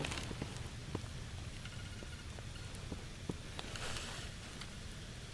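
Steady rain pattering on surfaces, a dense continuous hiss with scattered sharper drops throughout, no voices.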